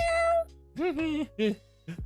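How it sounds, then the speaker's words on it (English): A black cat meows several times in quick succession, close and clear, with drawn-out tonal cries and brief pauses between them. "Those meows are the best."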